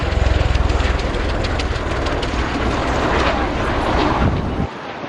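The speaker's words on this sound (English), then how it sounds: "Ladies and gentlemen, right here, this is the Osprey." Osprey tiltrotor aircraft flying past at an air show, a loud rumbling drone with rhythmic rotor throb at first, steady and broad, cutting off abruptly near the end.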